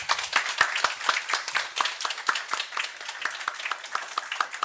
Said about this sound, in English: Give a big round of applause for Johan, Christer, and Jens.